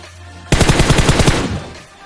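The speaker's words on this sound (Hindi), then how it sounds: "मैं सीधा इसे M416 से फोड़ देता हूँ" An M416 assault rifle fires in a battle royale game as a loud, rapid burst of about a dozen closely spaced shots lasting roughly a second, then a short fading echo.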